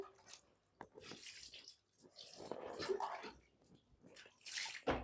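Water splashes and pours in uneven bursts over a puppy being bathed, close and fairly quiet, with no talking.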